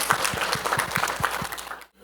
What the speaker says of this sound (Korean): 하나님께 감사의 영광의 박수를 올리겠습니다.